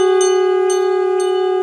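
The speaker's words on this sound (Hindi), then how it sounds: "शंखनाद बजता रहे, घंटे बजते रहे।" Conch shell blown in one long, loud, steady tone at a Hindu-style ceremony with a pandit, while bells ring in short bursts about every half second.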